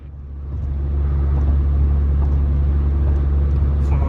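Car driving on a road, a steady low rumble of engine and road noise from inside the cabin, loud and continuous with no breaks.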